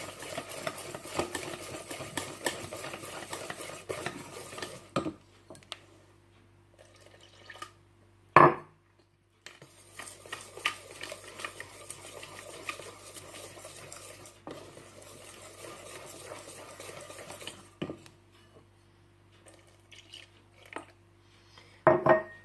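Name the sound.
whisking crêpe batter while adding milk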